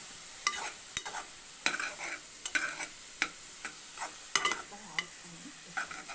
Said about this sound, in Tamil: அப்புறமேட்டு நல்லா கிளறணும்